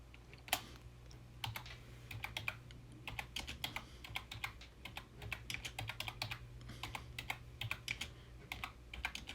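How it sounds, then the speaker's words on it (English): Steady, fast typing on a computer keyboard, close up, with dense clicking keystrokes over a faint low hum and no voices. "I'm just letting you guys hear me type"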